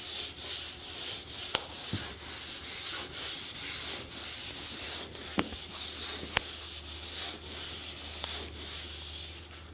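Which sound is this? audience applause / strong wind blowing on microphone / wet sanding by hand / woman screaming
wet sanding by hand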